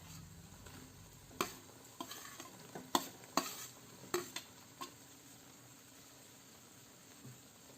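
Soybean chunks frying in a pan for a soybean curry, stirred with a utensil that scrapes and knocks against the pan in several sharp bursts over a low steady sizzle, with no talking.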